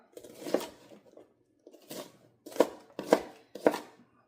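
A knife slices vegetables on a cutting board for cheddar broccoli soup, making about six crisp, separate chops in uneven rhythm, close and clear with quiet gaps between.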